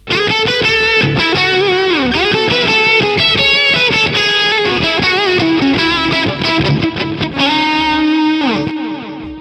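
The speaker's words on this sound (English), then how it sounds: "it's a delay and a reverb. Sounds cool." A loud, distorted electric guitar through the Neural DSP Archetype: Tom Morello plugin with delay and reverb plays a busy line, its notes smeared with echoing repeats and a long, washy reverb tail.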